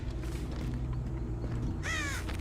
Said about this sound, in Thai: นี่อีกาเพิ่งลงด้วยอ่ะ